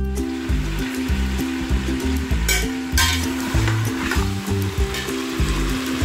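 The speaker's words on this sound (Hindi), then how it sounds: "गोश्त फ्राई हो चुका है" Meat frying in onion-flavoured oil for white pilao, with a steady, loud sizzle and crackle running throughout under a looping background melody.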